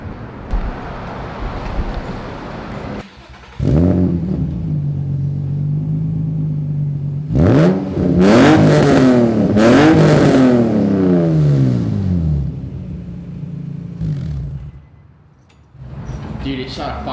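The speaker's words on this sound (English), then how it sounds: "I'm gonna go start the car and give you guys a couple of revs so you can hear the exhaust" A 2004 Nissan 350Z with an ARC exhaust system and test pipes idles with a deep rumble, then gets several quick revs that rise and fall in pitch, with popping on the overrun, heard nearby outdoors.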